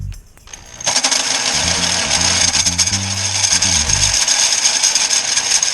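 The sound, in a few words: drilling through motorcycle exhaust baffle with hammer drill on drill setting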